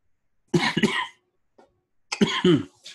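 Two separate bursts of coughing, each a quick pair of harsh hacks from one nearby person, separated by a short quiet gap with a faint small sound in it.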